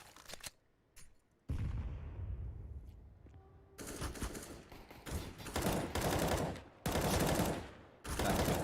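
Pistol gunfire in the video game Counter-Strike: sharp single shots early, then rapid bursts of loud, close shooting in clusters with brief gaps between them.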